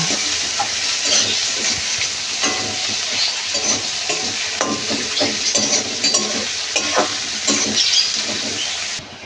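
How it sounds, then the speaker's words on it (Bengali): Loud, busy sizzling of onions frying in hot oil with fennel seeds, with scraping and stirring clatters scattered over the constant hiss. "তারপরে দেব পেঁয়াজ, এগুলো একটু হালকা লাল লাল করে ভেজে নেব"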